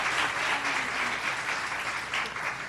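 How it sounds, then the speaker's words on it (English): Steady, loud applause from the audience at a Brockton High School senior awards ceremony, honoring an award recipient with continuous clapping throughout. "Let's give her another round of applause"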